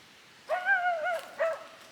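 A dog in a forest gives a few sharp, close barks with whiny, yelping tones, one long bark followed by a shorter one after a pause, heard alone with no talking.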